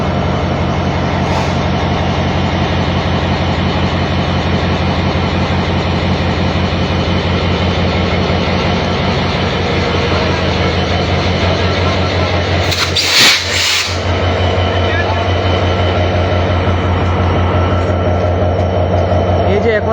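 A crowded passenger train on the Ekota Express route runs with its locomotive carrying people aboard, producing a loud, steady engine drone and rail rumble, with a brief burst of noise midway and voices faintly mixed in.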